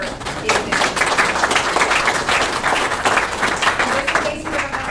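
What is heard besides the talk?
audience applause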